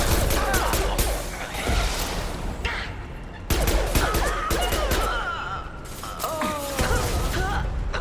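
Bursts of rapid gunfire from a Mass Effect 2 battle, loud sustained volleys broken by short pauses, with voices talking in between.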